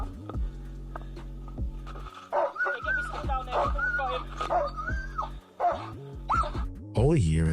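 Police dog Ollie barks and yips in short excited bursts close by, whimpering between barks, while a handler talks loudly over it at a roadside arrest with a suspect under a vehicle.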